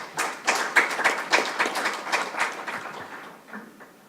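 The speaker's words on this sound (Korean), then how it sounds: "큰 박수로 모시겠습니다." An audience at a first-anniversary celebration event in Korea claps as a speaker is welcomed. Lively, dense applause builds quickly, then gradually thins out and fades over a few seconds.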